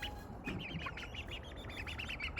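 Young Buff Orpington chicks and turkey poults give a quick run of high, thin peeps and chirps, close by and fairly soft, repeating steadily without talk.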